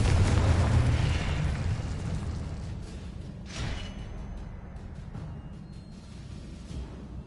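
Confringo blasting spell in the Hogwarts Legacy video game opens with a loud, deep explosive boom that rumbles and fades, followed by another sharp burst around the middle and a fainter one near the end, within a continuous game soundscape.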